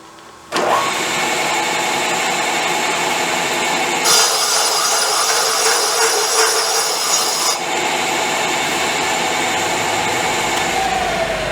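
A hone runs quickly up and down inside the cylinder barrels of a Triumph 500 Otter motorcycle, giving a continuous loud abrasive grinding whir. It grows harsher for a few seconds midway, then settles back.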